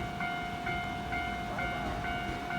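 A JR Kansai Airport Rapid electric train pulls away near a level crossing, its motors giving a steady, fairly close whine with layered tones that shift slightly as it gathers speed, with no talk.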